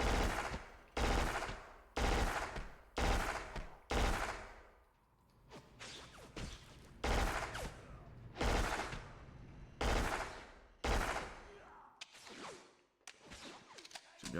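Pump shotguns in the PS2 shooter Black boom in loud, heavy blasts at irregular intervals, with a cluster of quicker shots mid-way and the echoing tails of each blast filling the gaps.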